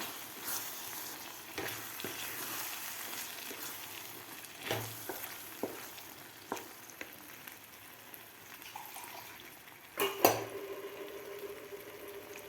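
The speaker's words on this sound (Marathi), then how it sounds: "पालक पेस्ट घातल्यानंतर व्यवस्थित आपल्याला हे मिक्स करून घ्यायचं आहे" Spinach paste is stirred into a frying pea and spinach curry, giving a close, steady sizzle broken by soft scraping strokes and a louder clatter near the end, with no talk.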